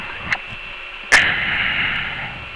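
Wolfteam first-person shooter gameplay with a faint early shot followed by a sharp blast and a lingering rushing hiss of explosion debris, no talk over it.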